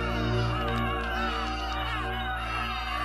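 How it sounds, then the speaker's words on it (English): A witch's pet crows from The Wonderful Wizard of Oz caw continuously for about three seconds, their harsh calls blended into a dense, steady layer of accompanying sound. "This time she sent her pet crows after us."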